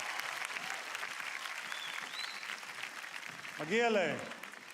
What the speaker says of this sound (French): Applaudissez avec moi les enfants d'Israël.